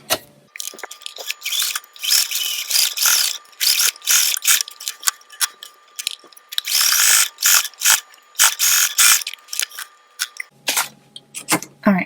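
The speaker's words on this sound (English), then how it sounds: "But I'm just going to sew right here" A sewing machine stitches pleats into a fabric face mask, running in loud, rapid bursts of stitching separated by brief pauses, with no talking over it.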